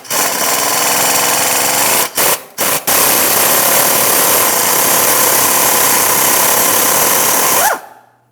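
A power tool runs loud and steady, close up, while loosening a 14mm bolt on the rusted exhaust manifold bracket of a 2003-2008 Toyota Matrix 1.8L, with two short pauses before it stops.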